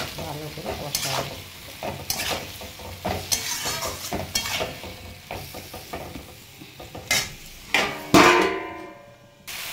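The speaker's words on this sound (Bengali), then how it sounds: "ব্যাস এবারে এটাকে ভালো করে কষাবে" Spices fry in a pan: turmeric, ground coriander and chilli are stirred with a splash of water. A spoon scrapes and clinks against the metal in irregular strokes over a soft, constant sizzle, with a louder hiss flaring near the end.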